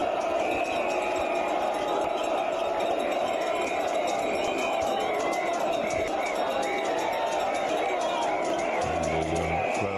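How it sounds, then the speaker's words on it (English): A large cricket crowd roars and calls steadily for Kapil Dev after India beat West Indies by 43 runs to win the Prudential Cup, a dense, continuous wall of voices that never lets up. "the crowd there in front consistently calling for Kapil Dev"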